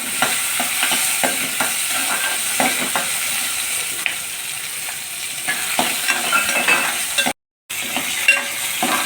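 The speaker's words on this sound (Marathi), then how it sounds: "2 मिनिटं चांगले परतायचे त्यांना।" Boiled peanuts sautéing in a pan for sabudana khichdi, a continuous close sizzle with frequent scraping taps of a spoon stirring, briefly cut out near the end before resuming.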